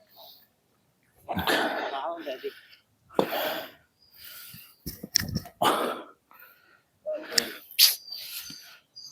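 Several bursts of harsh, breathy coughing in quick succession, close and loud, separated by short pauses.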